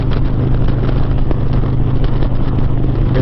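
A Harley-Davidson Street Glide motorcycle with a 124 ci engine cruises on Interstate 80 between Nebraska and Iowa, giving a loud, steady engine drone mixed with constant wind rush and no speech.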